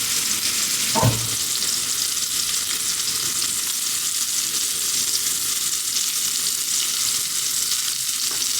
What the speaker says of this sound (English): we're gonna sear it on both sides for about 2 to 3 minutes